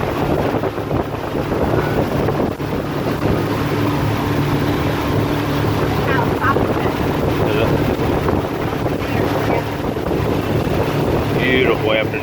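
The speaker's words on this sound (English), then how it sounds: "driving the boat on Laurel River Lake." Motorboat cruising across Laurel River Lake on a breezy afternoon, a steady engine drone and hull rumble under constant wind buffeting the microphone, with voices talking faintly over it.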